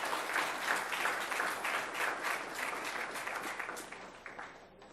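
A school audience gives a steady round of applause at a Palm Beach County recognition ceremony, dense clapping that holds strong for a few seconds and then gradually thins and fades.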